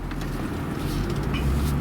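A Jaguar XK8 pulls away from inside the cabin, a low steady engine hum with faint road noise, smooth and quiet, carrying on evenly without talk.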